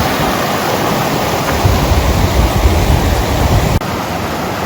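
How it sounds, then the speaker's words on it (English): A mountain stream on the trail below Kearsarge Pass rushes loudly and close by as a steady broadband wash of water, with a rougher surge in the middle and a brief dip near the end. "Stream that I'm coming across"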